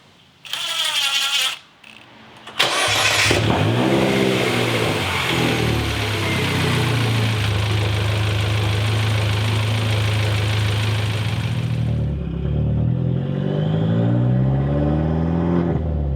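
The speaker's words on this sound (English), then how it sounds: "Listen to that turbo." A turbocharged Mini engine starts with a few short bursts, then revs up and holds a loud, steady drone with a rising whine before dropping back to a lower idle near the end.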